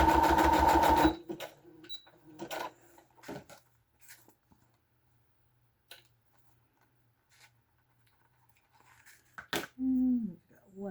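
A sewing machine stitching a vintage Christmas junk journal embellishment whirs briefly at the start, then gives way to scattered soft clicks and handling taps, with a short burst of speech near the end.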